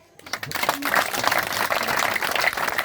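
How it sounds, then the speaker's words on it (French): A crowd at a parliamentary visit by a deputy in Congo applauds with dense, steady clapping that swells quickly and continues without a break. "applaudissons peut-être plus une fois encore pour les députés"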